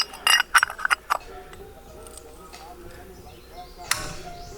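Plastic center caps clicking into the rear wheels of a Honda CR-V, a quick run of sharp snaps and clinks close by, then quiet with one more click near the end.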